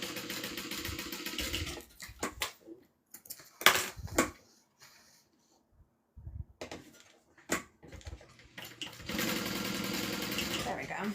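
A sewing machine stitches tack stitches in a fast, whirring burst, falls silent while a person talks with some light handling clatter, then runs again in another steady burst.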